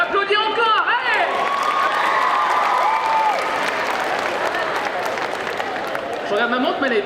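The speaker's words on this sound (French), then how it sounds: "Et on l'applaudit encore, allez!" A crowd at a cosplay parade during the Bordeaux Geekfest fills the air with sustained applause, cheers and high whoops, with the loud clapping continuing to the end.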